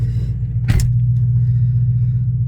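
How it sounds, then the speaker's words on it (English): A car engine idles with a deep, steady rumble close by, holding an even drone throughout with one brief hissing burst partway through. "I love how my car sounds."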